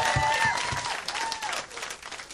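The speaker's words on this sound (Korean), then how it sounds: "박수 부탁드리겠습니다 여러분." Applause from the audience at a live rock concert stage show swells and then tapers, with a few cheers and whistle-like calls over dense crowd clapping.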